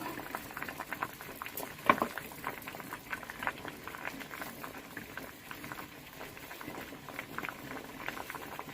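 Dal and beans boil in a pot for bassaru, with a steady close bubbling patter and soft popping bursts running through the whole stretch, no voices over it.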